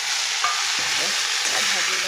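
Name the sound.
spices and chickpeas frying in a wok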